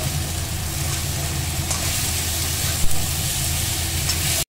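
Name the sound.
spice masala frying and sizzling in pan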